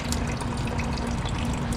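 Coolant water is forced out of a lower radiator hose on a Honda Civic during a radiator flush, a continuous gushing, bubbling flow of liquid heard close up with a low hum underneath.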